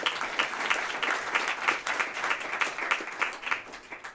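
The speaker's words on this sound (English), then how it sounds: "round of applause for Nathan" An audience at a breakfast briefing breaks into a round of applause, dense steady clapping from a crowd held at a fairly even level throughout, with no talking over it.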